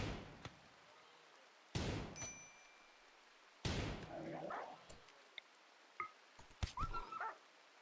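A dog in a fight in the video game RimWorld, giving a few sharp, separate barks with short yips and whimpers between, fairly close against quiet game background.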